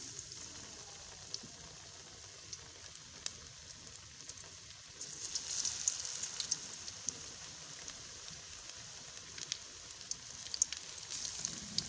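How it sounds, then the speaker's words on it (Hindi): Cauliflower florets dipped in gram-flour batter fry in hot oil, giving a steady faint sizzle and crackle that grows slightly louder partway through, with no talking. "इसको बेसन में अच्छे से डिप करके इस तरह से ऑयल में डाल देंगे"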